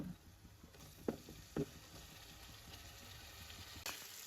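Ginger garlic paste frying in a pan gives a quiet, steady sizzle, with a few brief stirring scrapes.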